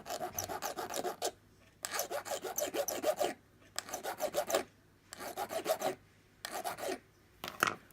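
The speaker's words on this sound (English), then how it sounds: "I think I'll just file a bit off now" Metal is hand-filed on a Schools locomotive model in five or six bursts of close, rasping strokes, each burst separated by a short quiet pause.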